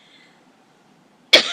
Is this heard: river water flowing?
no